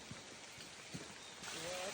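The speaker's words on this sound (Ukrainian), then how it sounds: "Пішов дощик, я не монтую, чуєте, як птички співають" Light rain begins falling outdoors on a forest health trail, a soft steady patter that swells toward the end, with faint bird chirps and a voice briefly heard.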